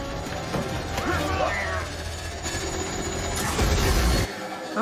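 A train rumbles and clatters along steadily with rolling rail noise, while people talk over it.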